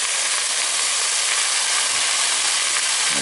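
Onion thrown into a hot pan beside a roasting slice of pork, sending up a loud, dense, continuous sizzle that stays steady from start to finish.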